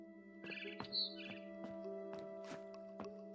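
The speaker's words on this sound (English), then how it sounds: "Then I heard chirping outside my window." A barn swallow chirps in the video game What Remains of Edith Finch, a quick series of short, bright tweets over a steady tonal game soundtrack.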